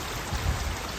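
Rainwater runs down a small stream, a continuous rushing and trickling wash that stays steady and close for about a second, with no voices.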